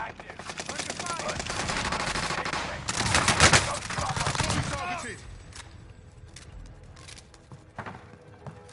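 Rapid automatic gunfire in Call of Duty Warzone, dense bursts of shots loud and close for several seconds, then fading to scattered distant pops and single cracks, with game voice lines now and then.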